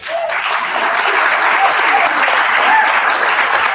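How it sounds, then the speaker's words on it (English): A room full of supporters applauds at a candidacy announcement, with dense, steady clapping throughout at close range. "Round of applause for Marisa."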